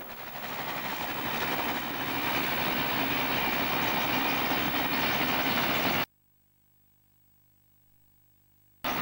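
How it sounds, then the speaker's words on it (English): Steam locomotive 3624 hauls a northbound freight train at Gerogery, a loud, steady rolling rumble of wheels and engine for about six seconds before it abruptly cuts to near silence. "Again at Gerogery, 3624, with a northbound freight."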